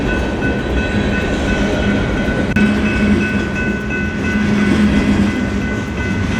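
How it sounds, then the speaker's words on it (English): A train rolls past close by in New Braunfels, Texas, a steady loud rumble of wheels and cars with a continuous metallic hum, no voices. "seeing that train pass so close by"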